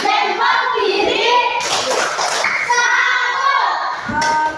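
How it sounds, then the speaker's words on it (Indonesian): Children in an Indonesian classroom coding lesson clap their hands together in a quick burst under a teacher's voice and children's chatter, with a second short round of clapping near the end. "Kita beri tepuk tangan dulu"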